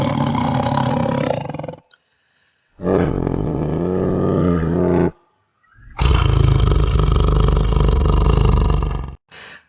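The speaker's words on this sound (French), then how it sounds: "il s'agit du cri du tigre" A tiger roars in three long, loud, rough bursts, each lasting a couple of seconds and separated by brief silences, close and unaccompanied.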